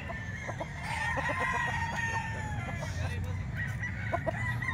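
A Reaper Hatch bloodline gamefowl broodstag rooster crows repeatedly at close range, its harsh, drawn-out calls rising over a steady background hum with a few clucks in between.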